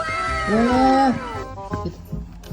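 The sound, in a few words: kitten meowing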